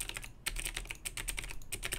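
Rapid clicking of keys on a computer keyboard while text is entered into a web form, a steady run of close, crisp keystrokes with a brief pause partway through and no voices.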